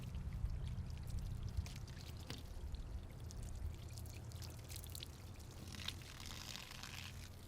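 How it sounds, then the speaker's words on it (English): Water from a running garden hose pours and runs off the beaded surface of a 2019 CanAm Renegade 1000 XMR ATV, a steady, soft, close stream with light splashing throughout and no voices. "I got the garden hose running still, and check out the hydrophobic effect"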